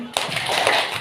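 A group of women in an audience clap on cue, a sharp burst of close hand claps with a slight double attack, loud and alone with no talk.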